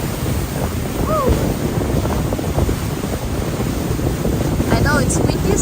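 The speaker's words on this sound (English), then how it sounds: "I know it's windy" Wind blowing hard across a boat on the Hudson River, a steady, loud rushing roar that buffets the microphone throughout.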